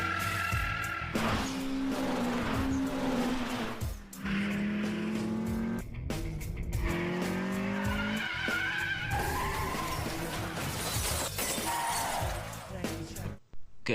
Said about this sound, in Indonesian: ia pun tetap menancap gas dan berhasil membalasnya